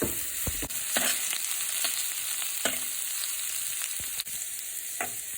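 Cabbage sautéing in a hot pan, a constant bright sizzle broken by regular scraping strokes and taps of a spoon as it is stirred, close and steady with no talk.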